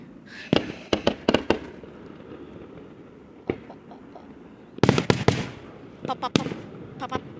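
Fireworks going off outdoors at a New Year's-style celebration, sharp bangs and crackling pops in scattered bursts, some close and loud, with occasional voices reacting in between.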